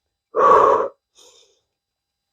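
A person exercising during a home strength and cardio workout takes one loud, close breath lasting about half a second, followed by a shorter, fainter breath.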